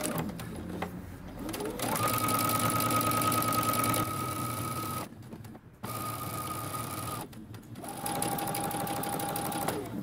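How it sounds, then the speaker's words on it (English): A sewing machine stitching a 5/8-inch seam on a mini hoodie, a steady rapid whirring hum in long runs broken by brief pauses, close and clear with no talk. "using a normal length stitch and backstitching at the beginning and at the end, we're going to stitch using 5/8 of an inch seam allowance"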